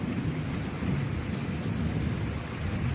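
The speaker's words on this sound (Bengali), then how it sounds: "মুষলধারে বৃষ্টি, আর মেঘ ডাকছে।" Torrential rain hissing steadily, with a low thunder rumble rolling underneath throughout, loud and unbroken, no one speaking.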